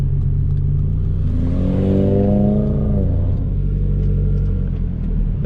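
An Audi RS3 accelerating away, a loud, close engine rumble whose pitch climbs through a rising rev sweep, then settles into a steady droning roar as the car pulls off.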